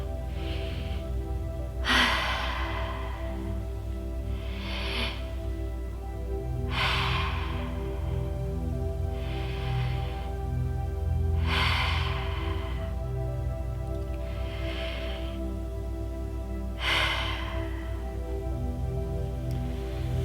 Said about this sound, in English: 4 breaths, follow along.